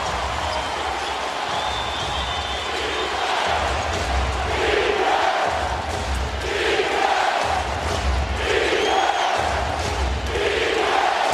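A crowd in an NBA playoff arena during a Suns versus Blazers game roars and cheers steadily, building in surges, with a low rumbling murmur beneath.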